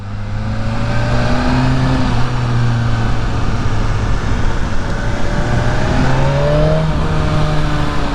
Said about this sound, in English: Oh, the noise this bike makes. That inline 4 is just sublime.